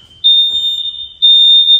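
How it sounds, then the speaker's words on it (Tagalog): A home smoke alarm being tested in Las Vegas lets out two loud, shrill, steady beeping bursts, each lasting under a second, separated by a short gap, close by with no talk. "there goes the alarm again."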